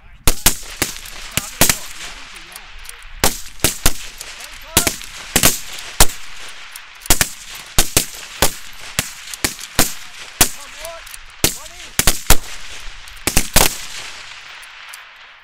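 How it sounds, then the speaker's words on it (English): Service rifles firing rapid strings at an outdoor precision match, with many loud sharp reports from several shooters along the line in quick irregular succession and echoing tails, over a steady background. "So this is the rapid. 5 shots per person. 15 seconds to do so."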